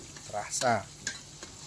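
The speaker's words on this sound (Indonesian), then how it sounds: "kita goreng telur dengan cara diorak-arik" Eggs scrambled in a hot frying pan for seafood fried rice, with a brief sizzle and a couple of stirring scrapes over under two seconds, and a single word spoken quietly in the middle.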